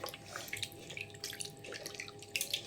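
Chicken hearts and gizzards are washed by hand in water with a little turmeric, producing irregular close splashes, drips and trickling with no speech.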